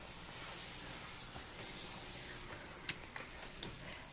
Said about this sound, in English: we're going to add a little bit of spray, glue